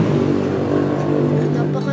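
Car engines revving loudly on a nearby road, a rough, steady roar that fills the moment while someone speaks over it.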